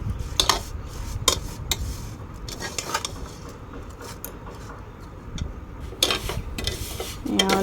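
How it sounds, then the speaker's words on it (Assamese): Spoon scraping and stirring vermicelli as it fries in a pan, with irregular clinks and scrapes in bursts over a steady low frying hiss, close and fairly quiet. "এতিয়া মই ভালদৰে লৰাই থাকিম"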